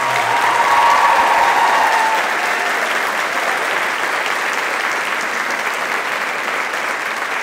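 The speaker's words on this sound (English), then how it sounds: "Could you please give him a big round of applause?" Sustained applause from a crowd at a high school concert, steady clapping that holds at an even level throughout with no break.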